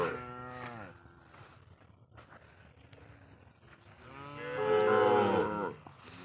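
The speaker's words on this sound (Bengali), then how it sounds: "হাজার হাজার লাখ লাখ গরু এই চর এলাকাতে আছে" Cattle moo loudly on a river char, one long low call at the start and another rising, sustained moo near the end, with quieter herd noise between.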